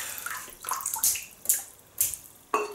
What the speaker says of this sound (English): just wet the brush, synthetic brush, so it doesn't need soaking or anything like that.